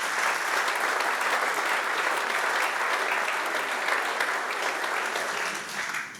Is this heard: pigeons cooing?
no